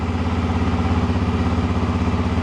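A MASH Black Side sidecar motorcycle engine running just after starting, a steady close rhythmic idle thrum with fast pulsing beats and a slight mechanical clatter, no talk over it.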